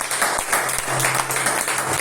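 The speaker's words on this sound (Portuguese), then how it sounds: "quem crê aplauda Jesus Cristo" A church congregation applauds during a Sunday service, many hands clapping together in a continuous, fairly loud burst with a faint low hum underneath.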